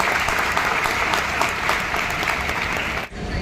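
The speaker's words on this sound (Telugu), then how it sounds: "మీ ప్రేమంతో ఒకసారి చప్పట్లను చూపించాలి" Sustained applause from an audience at an awards ceremony honouring SSC merit students, greeting the district education officer; dense, steady clapping throughout that dips briefly near the end before continuing.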